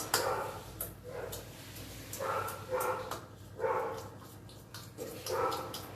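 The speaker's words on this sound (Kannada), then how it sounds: "ಯಾವಾಗಲೂ ಹೀಗೆ ನಾಯಿ ಬೊಗಳ್ತಾನೆ ಇರುತ್ತೆ" A dog barks repeatedly in short bursts, several barks spaced about a second apart, moderately close with faint background noise and no talking.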